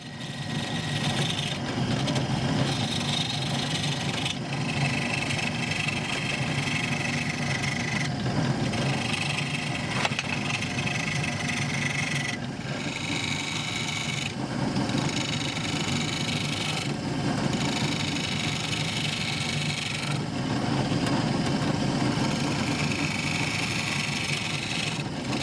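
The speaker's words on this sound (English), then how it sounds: "Once the tenon is shaped, I can begin carving the outer profile of the bowl." Curly maple bowl spinning on a wood lathe while its outer profile is carved, a steady motor hum with continuous scraping cuts in rough repeated passes, close and fairly loud.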